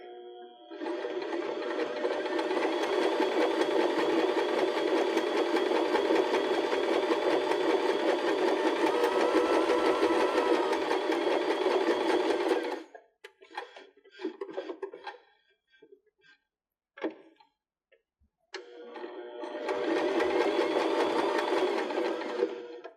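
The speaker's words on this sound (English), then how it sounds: "Then we can pivot our foot, and the first stitch will sew to the left, so we'll be on our cork" A sewing machine stitching through cork fabric for a pillow, a long steady whirring run that stops, gives a few short stuttering bursts, then starts again with a shorter continuous run.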